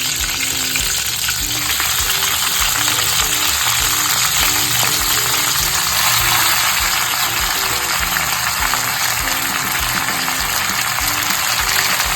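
Gongura (sorrel leaves) frying in a pan for Andhra gongura chicken curry, giving a steady, loud sizzle throughout with regular stirring scrapes and no talking.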